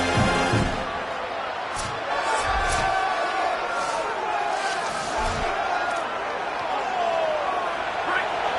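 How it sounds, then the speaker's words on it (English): A stadium crowd roars in College Football 27 during an Alabama versus Florida State game, a steady broad rumble with scattered thuds and shouts, lasting the whole stretch. "The roar of the crowd trying to fuel this defense to keep them pinned in their own end"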